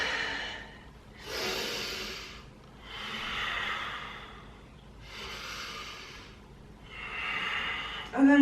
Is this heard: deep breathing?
yes